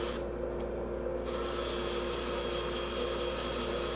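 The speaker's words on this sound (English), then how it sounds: "just sand it by hand." Sandpaper rubbed by hand across a wooden three-sided bowl on a lathe, a steady close scratchy hiss that continues without pause over a constant low hum.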